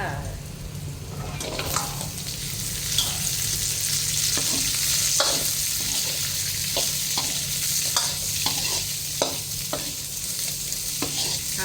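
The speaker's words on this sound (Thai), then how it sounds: "ใส่ถั่วแขกลงไปเลยค่ะ" Green beans stir-fried in a pan with oyster sauce, giving a continuous loud sizzle broken by frequent rhythmic scrapes and clacks of a spatula tossing them.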